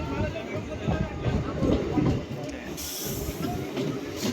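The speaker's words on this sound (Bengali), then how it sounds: "ওই যে গাড়ি, ট্রেন ঢুকে গেছে" A train rumbles and clatters nearby as it arrives at Madanpur station, with a hissing burst toward the end and faint voices in the background.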